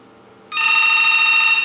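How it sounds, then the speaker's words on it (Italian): A telephone rings on a Mediatrix 4102 gateway connected to an Asterisk VoIP system; after a quiet moment a loud, steady electronic ring starts abruptly and holds to the end. "Sta squillando."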